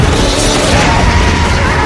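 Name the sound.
explosion in Monster Hunter film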